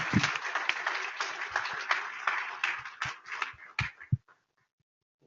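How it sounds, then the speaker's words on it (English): Audience applause at an AAVSO membership meeting in Flagstaff, a moderate room of clapping that thins out, leaving a few scattered last claps before quiet. "a round of applause, please, for them, for thanking them"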